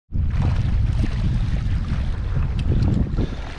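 Strong wind blows across open water around a kayak off Long Island during a blackfish fishing trip, a loud, steady broadband roar with faint splashes and no talking.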